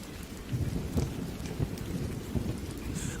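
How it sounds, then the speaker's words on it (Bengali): Steady rain with rumbling thunder on a stormy night, a dense continuous wash of falling drops with low rolling booms swelling at intervals, no voices present. "সেদিন সারা রাত ধরে টিপ টিপ করে বৃষ্টি পড়ছিল।"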